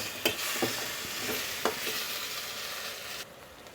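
Chopped tomato added to spices frying in oil, a dense steady sizzle with a few scraping stir clicks and knocks, the frying quieting near the end.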